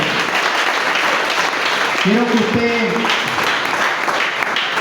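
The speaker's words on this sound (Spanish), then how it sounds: "Puede aplaudir al Señor." A church congregation applauds in a dense, steady patter throughout, with a voice briefly speaking over the clapping midway.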